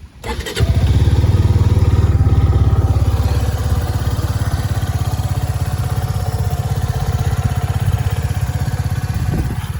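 A 2023 Suzuki V-Strom 250 SX motorcycle fires up after a brief crank and settles into a steady, smooth idle with an even low rumble, loud and close throughout.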